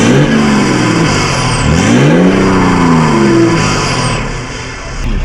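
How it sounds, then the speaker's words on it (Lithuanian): A BMW E61 530d xDrive diesel estate with a Stage 1 tune revs hard, its engine note climbing and falling through two or three sweeping blips, loud and close with no talking. "Taip, tai variklis prašyla, biškį galima labiau pagazuot."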